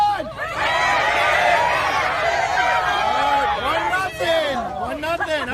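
Kids cheering on competitors at an environmental education event, a loud sustained crowd of young voices shouting and whooping, with screams rising and falling near the end.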